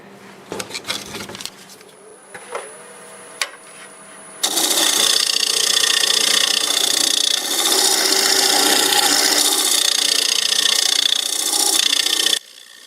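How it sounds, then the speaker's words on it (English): A lathe tool scrapes pear wood with a knot as the piece spins, giving a loud, steady, buzzing rasp that runs unbroken for about eight seconds, preceded by a few light taps and knocks. "Boy, does that scrape nice."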